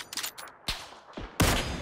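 Rapid bursts of gunfire from the battle royale video game PUBG, several sharp close shots and a loud final burst over a brief span, with no talking.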